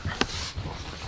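A dog at home gives a brief whimper or yip near the start, close by, followed by low panting and soft movement noises in a quiet room.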